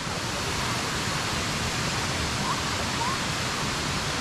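Kuang Si waterfall in Laos, running at a moderate flow, gives off a dense, continuous hiss of falling water, loud and unchanging from start to end.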